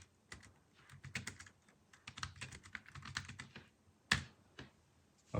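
Fingers tap quickly on a G750 folding keyboard converted to Bluetooth, producing a soft, steady run of close, light key clicks with a brief pause and one sharper clack near the end.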